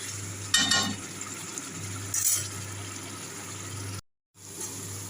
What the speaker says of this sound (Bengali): আলুগুলো দিয়েও ভালো করে একটু কষিয়ে নেবো